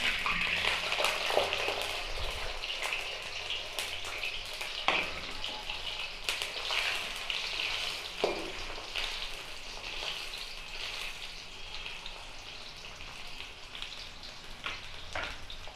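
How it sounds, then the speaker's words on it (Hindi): Onions dropped into hot oil for a desi-style chicken karahi, giving a bright, steady sizzle that stays close and fairly quiet, with occasional stirring clatters and no voices. "तेल हमारा गर्म हो चुका है, अब इसमें हम लोग डालेंगे प्याज।"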